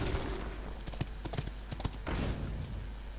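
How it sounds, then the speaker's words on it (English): A horse in the Hearthstone video game, with quick clip-clop hoof clatter and then a whinny, quiet game sound effects without speech. "That horse is annoying."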